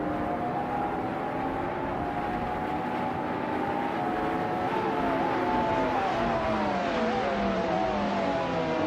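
Retro GT 500 race cars at Castle Combe, led by a 1995 McLaren F1 GTR, hold a continuous loud engine drone whose pitch climbs and shifts as they accelerate away from the start.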